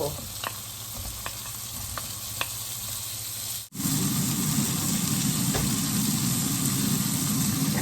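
Onion and tomato stir-frying in a pan, a steady close sizzle that grows louder and denser after a brief dip midway, with a few light utensil taps early on.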